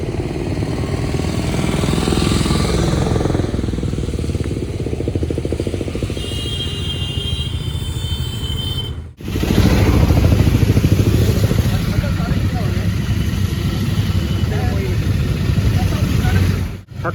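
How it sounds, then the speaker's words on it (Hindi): Motorcycles on the road from Rishikesh toward Govind Ghat for the Hemkund Sahib pilgrimage rumble past close by in a loud, continuous engine drone, with a brief break before a second surge of riders. "अभी और आ रही हैं बाइक"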